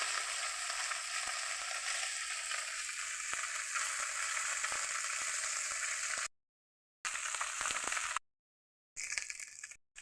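Small puti fish fry in oil in a pan with a loud, dense, continuous sizzle and occasional faint crackles and taps, cut by two short silent gaps near the end.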